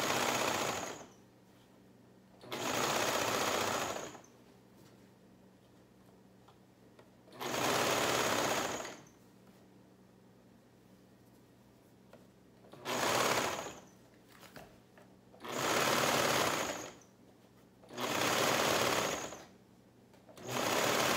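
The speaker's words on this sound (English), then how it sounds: "We're going to sew this together." A sewing machine stitches the sleeve seam of a shirt in six bursts of fast mechanical whirring, each a second or two long, separated by quiet pauses.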